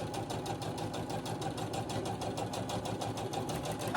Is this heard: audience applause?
no